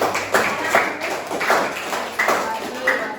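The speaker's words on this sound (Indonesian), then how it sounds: "silakan beri tepuk tangan" Light classroom applause comes in short bursts of clapping, several soft claps spread across the moment, with people talking over them.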